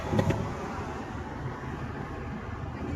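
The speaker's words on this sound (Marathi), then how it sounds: "5वा गिअर टाकला का सन सन सन सन सन सन गाडी जाते" A car cruising fast in fifth gear along a highway, a steady broad road and engine roar with tyre noise, continuous and fairly loud with no talk.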